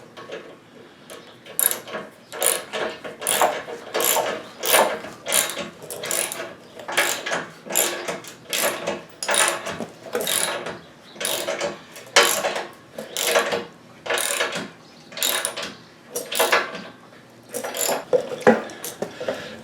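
Ratchet wrench clicking in rapid bursts while snugging the top bolts of a Barricade Classic rear bumper on a Jeep TJ, repeated cranking strokes close up with brief pauses between pulls.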